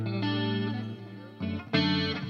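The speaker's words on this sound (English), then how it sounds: "The effects are coming through this amp, so that's some reverb. There's a little chorus on there and delay." An Ibanez electric guitar plays a clean tone through an amp with reverb, chorus and delay, sustained chords ringing out, fading, then struck again twice with shimmering repeats.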